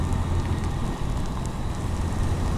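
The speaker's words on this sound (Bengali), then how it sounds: "এই যে আবার বৃষ্টি শুরু হয়ে গেল" Rain begins falling on the Dhaka–Chittagong highway during a motorcycle trip, a steady broadband hiss and patter with faint road noise underneath.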